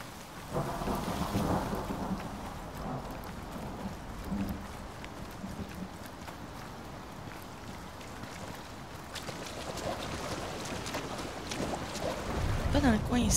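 A thunderstorm in the video game Icarus gives rumbling thunder and a steady wash of rain that swells and fades over several seconds, continuous and moderately loud.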